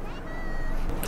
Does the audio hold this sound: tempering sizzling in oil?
no